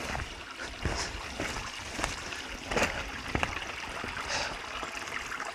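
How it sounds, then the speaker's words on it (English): A small woodland creek trickles and gurgles steadily along a bushy trail, close by with soft splashy flickers, and no one speaks over the flow. "Let's have a look at this river, huh?"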